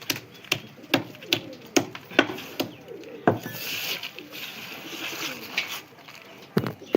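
Pigeons coo softly in a loft while a series of sharp, evenly spaced taps rings out nearby, the clicks dominating over the low murmuring calls.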